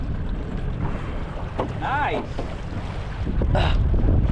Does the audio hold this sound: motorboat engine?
yes